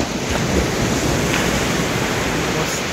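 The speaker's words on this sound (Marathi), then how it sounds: "मस्त असा समुद्र आहे।" Sea waves at Devbagh beach during a morning walk, a loud continuous wash of surf mixed with wind buffeting the microphone, and no one speaking.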